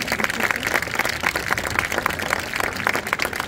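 A small outdoor festival crowd at Mûr-de-Bretagne claps for the volunteers, a steady patter of many hands that carries on evenly for a few seconds with no voices on top.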